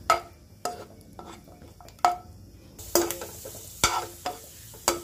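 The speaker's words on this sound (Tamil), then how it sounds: "எடுத்து வச்சுருக்க முந்திரி திராட்சை ஃபஸ்ட்டு நெய்யில் கொஞ்சம் லைட்டாக ஃப்ரை பண்ணி எடுத்துக்கலாம்" Cashews and raisins fry gently in ghee over a low flame while a spoon stirs them, giving a soft continuous sizzle broken by sharp scrapes and knocks against the pan, close and clear.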